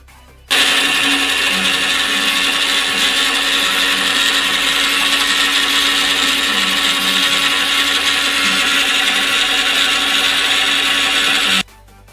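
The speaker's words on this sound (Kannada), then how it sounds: "ಇದಿಷ್ಟನ್ನು ಜಾರ್ಗೆ ಹಾಕ್ಕೊಂಡು ನಾವು ಇದನ್ನು ರುಬ್ಕೋಬೇಕಾಗತ್ತೆ" A mixer grinder jar grinds fresh coriander and mint leaves for pani puri chutney, a loud, steady whirring roar that starts abruptly, runs about eleven seconds without change and cuts off sharply.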